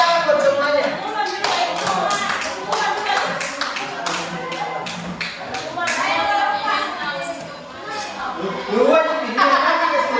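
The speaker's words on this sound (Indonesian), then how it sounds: "tepuk tangan buat semuanya" Scattered clapping from a class of children, close and irregular bursts of hand claps that rise and fall over about ten seconds while kids' voices chatter and call out throughout.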